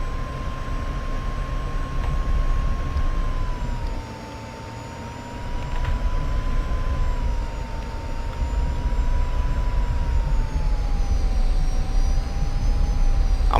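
A 1951 F-86 Sabre jet engine whines steadily as the aircraft taxis and turns onto the runway centreline, a loud continuous roar with a sustained high tone that dips briefly, then swells again, with no voices.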